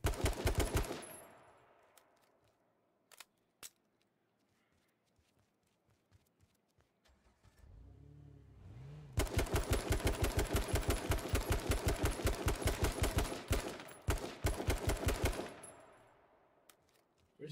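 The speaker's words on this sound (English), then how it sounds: "He jumped in the Jeep and dipped out." A Jeep in the game H1Z1 starts up and drives off: a quiet lull gives way to a loud, fast, rattling engine chug that runs steadily for several seconds, with scattered sharp bangs nearby.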